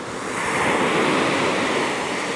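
Ocean waves roll in at Old Orchard Beach, Maine, in a loud, continuous roar of surf with a broad wash of rushing water and no voices.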